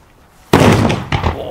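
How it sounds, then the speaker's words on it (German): A Pyrounion retro Kanonenschlag firecracker, made in Germany, goes off with a sudden, loud, close bang half a second in, followed by a rumbling tail and a second sharp burst about half a second later. "Ja, richtiger Kanonenschlag."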